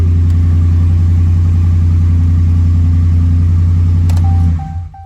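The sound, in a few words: truck engine revving through muffler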